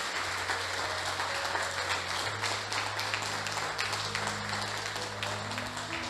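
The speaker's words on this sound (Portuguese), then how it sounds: "Dá uma salva de palmas para Jesus." Sustained applause from a church congregation during a worship service, steady and full throughout, over a low organ or keyboard drone.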